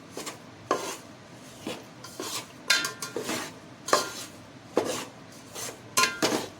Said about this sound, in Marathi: जोपर्यंत गूळ वितळत नाही तोपर्यंत आपल्याला हलवत राहायचं आहे